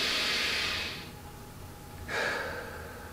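Two audible breaths during a diaphragmatic breathing exercise for trumpet playing: a long airy inhale-like rush, a pause, then a second breath, close and breathy with no talking.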